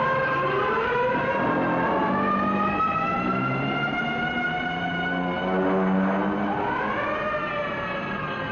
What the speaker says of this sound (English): the banshee wail of the siren echoes the warning